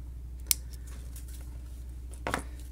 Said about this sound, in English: now I'm going to snip this off right about there